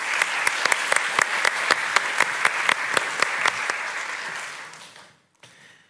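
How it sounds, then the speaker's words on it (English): Applause from an audience at a university academic year opening ceremony, dense sustained clapping with sharp individual claps standing out, fading out near the end. "And once again, a round of applause for both Robert Dycraft and Gerda Casimir."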